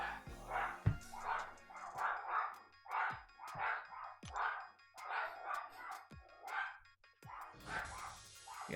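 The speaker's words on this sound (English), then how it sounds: "They don't normally bark that much." Several dogs bark loudly and close in a rapid, near-regular series of about a dozen barks, some overlapping, indoors.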